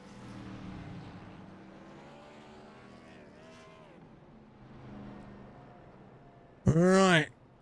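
Gen 6 Cup Series race cars in a Kentucky race, a distant rising and falling engine whine behind a commentator's voice, then a sudden loud, close roar.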